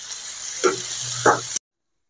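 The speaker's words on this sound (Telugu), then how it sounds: "ఒక 4 రెమ్మలకి కరివేపాకు కూడా వేసుకుందాం" Curry leaves and ivy gourd sizzle loudly in a hot pan, a steady hiss with two brief scraping stirs before it cuts off abruptly.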